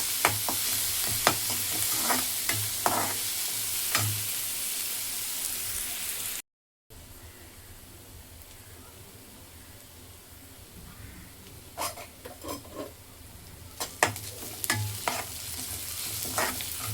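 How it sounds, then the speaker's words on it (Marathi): Onion frying in a pan in a home kitchen, a steady soft sizzle with intermittent scraping stirs of a spoon, briefly cut out midway, then continuing with sharper stirring clicks near the end. "आता कांदा चांगला लाल करून घेते"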